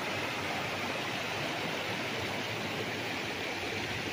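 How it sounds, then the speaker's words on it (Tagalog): A river rushes steadily nearby in Liliw, Laguna, a dense, even wash of flowing water with no breaks, moderately loud and uninterrupted by voices. "tunog ng tubig na umaagos eh."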